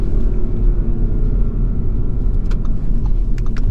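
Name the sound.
2021 Audi S4 engine under acceleration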